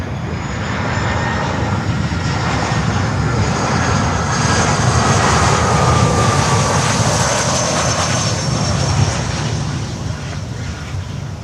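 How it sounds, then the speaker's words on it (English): A Global X jet arriving at Miami airport makes a loud, continuous engine roar and rushing wash that swells in the middle and eases slightly near the end, heard alone without voices. "now we have Global X coming in"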